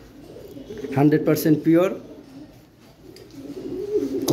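High flyer pigeons coo in soft, throaty bursts close by, with someone speaking briefly over them.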